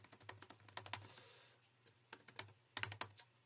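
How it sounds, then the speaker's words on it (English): Typing on a computer keyboard during online chess play, quick bursts of clicky keystrokes in two clusters separated by a short pause, close and fairly quiet. "If my keyboard will work."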